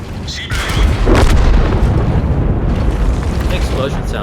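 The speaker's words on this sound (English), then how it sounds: "The explosion sounds are a lot cooler too" Heavy booming explosions in World of Tanks, a loud blast kicking off a deep rumbling roar that sustains and slowly decays, with a voice speaking underneath.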